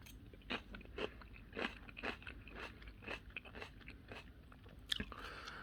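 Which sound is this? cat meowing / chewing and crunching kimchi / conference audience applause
chewing and crunching kimchi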